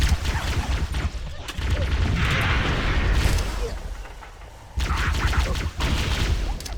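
Gunfire and explosions from a Halo CE firefight against Jackals on Legendary, loud and dense with bursts and booms, dipping briefly midway before the shooting resumes.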